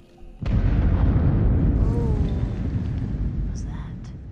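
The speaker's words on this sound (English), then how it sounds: "I think that was the explosion with Mike." Explosion in the horror video game Until Dawn, a sudden loud boom followed by a rumbling decay, with a player talking faintly over it.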